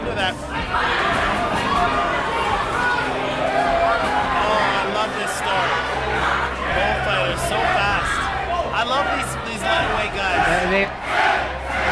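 Boxing arena crowd roaring and chanting in support of undefeated Filipino fighter Kent during a title bout, a dense, loud, continuous wall of shouting with rhythmic bursts and a commentator's voice mixed in.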